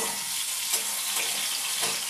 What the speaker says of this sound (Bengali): পটলগুলো ভাজা ভাজা হয়ে গেছে